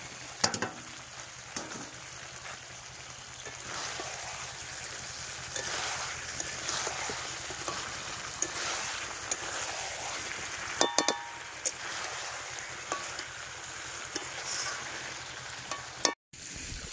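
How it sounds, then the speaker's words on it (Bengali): Fried potatoes go into a sizzling meat curry in a pan, giving a steady, moderately loud frying hiss throughout, with a few clinks and stirring scrapes and a brief dropout near the end. "এবারে আলুগুলো দিয়ে দেবো,"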